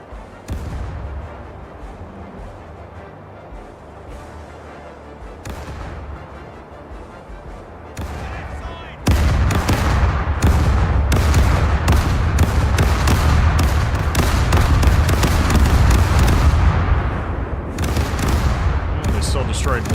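Ship cannons fire in a naval battle in the video game Caribbean Legend, a dense run of booming blasts that builds into a loud sustained barrage, with someone talking over it.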